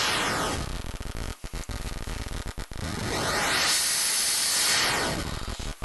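Harsh hissing from a hexinverter.net vcNOIZ voltage-controlled noise oscillator swept up and down in pitch, with sharp chopped gaps and rising and falling whooshes, no voices.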